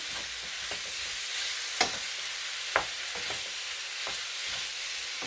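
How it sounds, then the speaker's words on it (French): Filling cooking gently in a frying pan for faux msemen, with a steady soft sizzle, occasional stirring scrapes and a couple of sharper clicks, close and alone without talk. "Donc on fait cuire ça tout doucement dans sa poêle."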